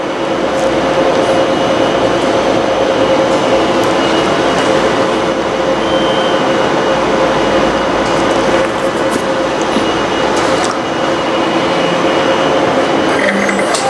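A Mimaki JV100 inkjet printer prints in fast mode, a loud, continuous mechanical whir with a steady hum and faint shuttling rattles close by, no speech.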